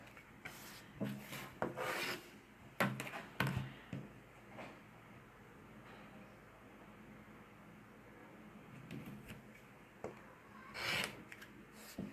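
Scissors snip fabric pieces for a washable mask, with a few close, crisp cuts in short clusters separated by quiet stretches.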